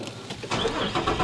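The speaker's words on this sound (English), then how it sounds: "let's start the car" A Nissan Frontier engine cranks and catches, a short loud burst of starter whir rising into a close running engine, with no talk over it.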